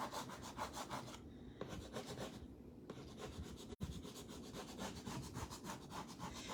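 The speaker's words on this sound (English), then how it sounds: "I'm just gonna carefully and selectively scrape off that purple" Steady back-and-forth scraping of purple paint off a decorative board, close and even, with a short pause partway through and a single sharp knock near the middle.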